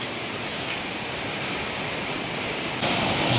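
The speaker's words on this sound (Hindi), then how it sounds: "ये देखिए क्या नज़ारा है भागीरथी नदी का अल्टीमेट व्यू कितना शोर है" Loud, steady roar of rushing river water at the Alaknanda-Bhagirathi confluence in Devprayag, Uttarakhand, a dense continuous wash close by that swells slightly louder near the end, with no voices.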